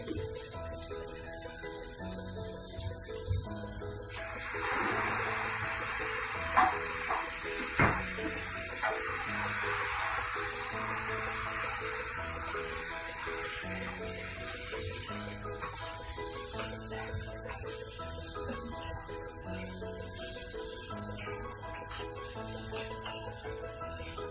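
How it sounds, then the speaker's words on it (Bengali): Banana-stem curry poured into a hot pan, a loud hissing spray of sizzle that swells for a few seconds over a steady background of frying, with a sharp clank midway. "তরকারিটা এবার ঢেলে দিচ্ছি।"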